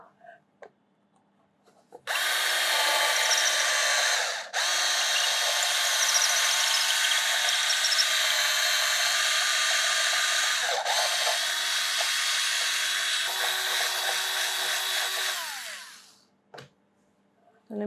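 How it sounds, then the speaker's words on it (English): A power drill bores a hole through a mushroom cake structure to fit a rod, a loud steady close whine running about fourteen seconds with brief dips, then spinning down to quiet. "I just need to drill in a little more."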